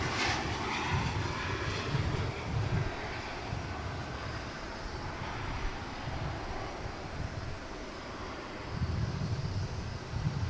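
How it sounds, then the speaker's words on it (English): An Embraer 175 LR jet at DFW International Airport makes a steady low rumble with some wind buffeting. The roar swells in broad pulses over the clip and sounds moderately distant. "This one's an Embraer 175 LR."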